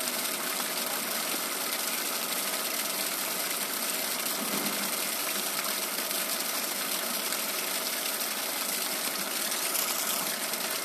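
A two-headed pump draws water from a newly drilled deep well and gushes it out of a pipe. The rush is steady, dense and unbroken throughout, with no talking.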